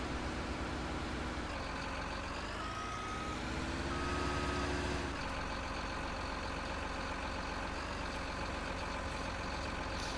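Steady, loud reversing beeps from a truck being loaded with logs in the Farming Simulator 19 video game, repeating evenly over a continuous engine drone for the whole stretch.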